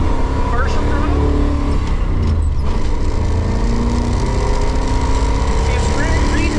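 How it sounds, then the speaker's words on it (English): A 1966 Ford Galaxie with an EFI V8 engine revs loud and steady at partial and then full throttle, a continuous roar close by with a voice talking over it. "So that's partial throttle, that's full throttle."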